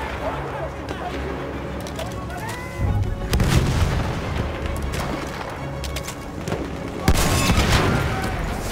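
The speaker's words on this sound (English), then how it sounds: "Wait for the enemy artillery barrage to stop firing." Enemy artillery barrage in the Battlefield 1 Sinai Desert map, a continuous roar of booms and blasts with sharper impacts near the middle and end, loud and dense, with a voice talking over it.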